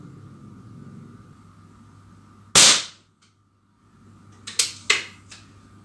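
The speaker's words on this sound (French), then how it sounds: "Allez, j'en tire encore 3. Comme ça, j'aurai le même nombre de plombs qu'hier." Air rifle pellet shots at a target: one sharp crack followed by a short quiet pause, then a quick cluster of snappy clicks and pops, close and distinct over a faint electrical hum.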